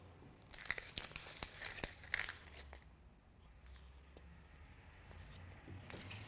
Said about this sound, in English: then you can peel it